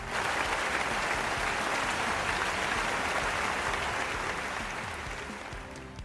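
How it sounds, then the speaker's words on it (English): Dense, sustained clapping from an audience, loud and even, fading slightly toward the end, with no voices. "it actually deserves claps"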